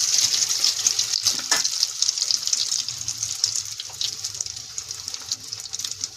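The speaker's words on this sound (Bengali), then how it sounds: "কড়াইতে তেল দিয়ে গরম হয়ে গেছে, এগুলোকে ভাজা বসিয়ে দিই।" Mashed potato pieces fry in hot oil in a wok, a bright continuous sizzle with a few sharp pops and crackles early on, close and fairly loud without talk.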